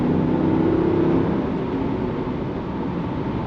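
A 2002 Mercedes-Benz CLK55 AMG cruises along with a low, steady engine drone and road noise, easing slightly after a louder opening second.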